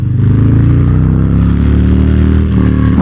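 A 2022 Harley-Davidson Softail Standard with a Stage 1 exhaust rumbles loud and close, its exhaust throbbing in a deep, steady idle with a slight rise in revs.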